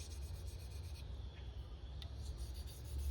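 A Grimsmo Norseman knife blade sharpened on a 600 grit stone with light pressure, giving soft, faint, steady rubbing strokes that scrape along quietly and continuously with no talk.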